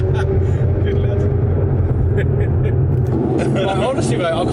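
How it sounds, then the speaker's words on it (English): A long line of cars at a car meet drive-out, including supercars, McLarens, Caterhams and a pickup truck, rumbles past close by in a steady stream, with people talking over the engine noise throughout. "It's literally a snake of cars."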